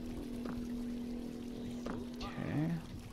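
Water pouring in the video game Eldritch, a short gurgling splash of pouring near the end over a steady low hum, with brief clicks earlier on.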